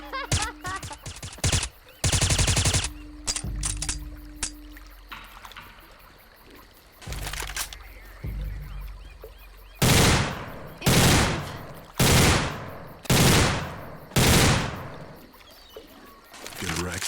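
Assault rifle bursts from a Left 4 Dead 2 combat sound pack, several loud sustained volleys separated by pauses, closing in a rapid run of five short bursts, with a brief voice early on.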